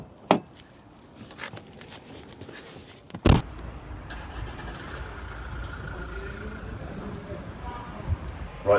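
A car starts up after a sharp knock, then drives on with a steady, low road and engine rumble inside the cabin for several seconds, and a person talks over it.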